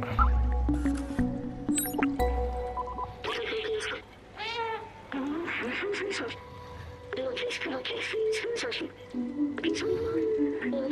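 In the video game Stray, a cat laps water in quick wet squishy laps and drips, mixed with game ambience and short meows, while someone talks over it.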